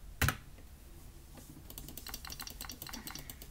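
Rapid clacking of keys on a new computer keyboard, a sharp thump at the start and then a steady patter of typing strokes, close and clear with no talking.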